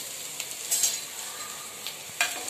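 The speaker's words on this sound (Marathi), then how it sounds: "हे छान परतून घ्यायचे लसूण आल्याचा जरा कच्चटपणा गेला की" Ginger garlic paste sautéing in a pan as vegetable gravy for leftover-rice Manchurian is started, heard as a soft continuous sizzle with a few sharper stirring scrapes, fairly quiet and steady with no talking.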